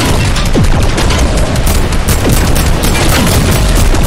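Loud, dense Fortnite gunfire during a fight against an alien craft, with rapid overlapping bursts and booming impacts filling the whole stretch with no pauses.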